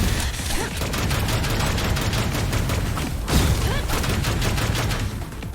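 Sustained automatic gunfire in the action game ANNO: Mutationem: dense, rapid shots rattle nonstop for several seconds, with a heavier boom about midway, loud and close with no talk over it.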